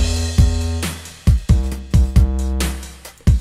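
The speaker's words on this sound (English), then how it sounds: "I dialed in a sub-bass and a virtual instrument." A sub-bass virtual instrument plays a bass line under an electronic drum beat, with deep sustained low notes changing pitch and punchy kicks marking the rhythm, loud and alone with no talk.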